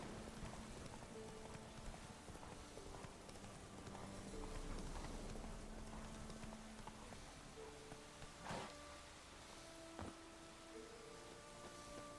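A horse gallops across terrain in The Witcher 3, its hoofbeats a soft continuous clip-clop under quiet game ambience, with a couple of brief sharper knocks near the end.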